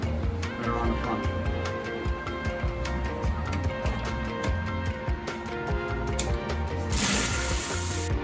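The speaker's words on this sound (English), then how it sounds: "we need to just take the front bolts off on the strut bars" Ratchet clicking in repeated bursts while 12mm strut bar bolts come off the front of a Kia Stinger, with a steady mechanical hum underneath and a short hissing spray near the end.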